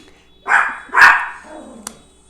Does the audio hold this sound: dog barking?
yes